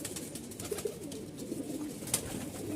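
Pigeons, including a big-eyed Mauja breed, give soft, low coos a few times over a quiet background hiss, faint and somewhat distant, with a sharp click partway through.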